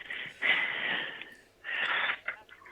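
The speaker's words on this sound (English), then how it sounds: "why are you breathing so heavy?" Heavy, wheezy breathing sits close to the microphone in two long, noisy breaths with a short pause between them. No one speaks.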